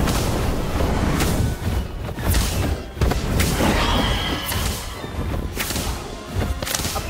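Spell-casting in the Harry Potter Magic Awakened video game, the Incendio fire spell, heard as a run of loud booming bursts and whip-like cracks over a dense, busy game soundscape.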